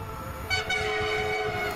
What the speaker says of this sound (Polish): A teraz mamy pociąg bez zatrzymania.